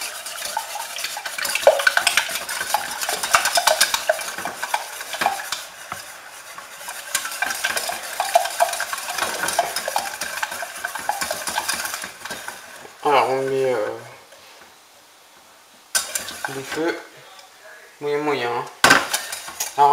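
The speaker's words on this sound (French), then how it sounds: "On prend un fouet et on commence à battre." Wire whisk beating eggs in a bowl while making scrambled eggs for stuffed sole, a fast steady scraping and clinking of metal against the bowl that runs continuously, then breaks off into short pauses and scattered knocks near the end.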